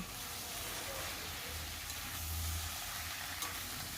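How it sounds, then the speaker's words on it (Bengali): Okra and eggplant are added to mixed vegetables frying in a pan, producing a faint, steady sizzle with a soft low rumble and no speech. "এবারে আমি আরও কিছু সবজি এখানে দিয়ে দিচ্ছি ঢ্যাঁড়স আর বেগুন।"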